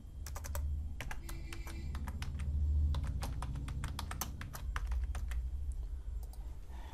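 Someone types on a computer keyboard while logging in to an online form, producing quick, irregular key clicks at close range, quiet and without talk.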